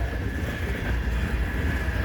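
A CN freight train pulled by back-to-back SD70M-2 locomotives rolls past nearby on a chilly day, a steady low rumble with a faint, constant higher tone and no clear rail clicks.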